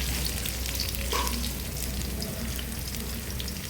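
Sliced onions with curry leaves and peanuts frying in a pan for a Maharashtrian dal-onion dish, a close steady sizzle with soft stirring scrapes and one brief clink.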